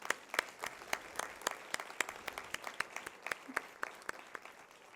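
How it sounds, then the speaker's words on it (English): Applause at an NSBM convocation honoring the graduates' parents: a faint, distant patter of scattered claps from a hall audience, steady and fairly sparse throughout. "let's take a moment to give them the heartfelt applause which they truly deserve"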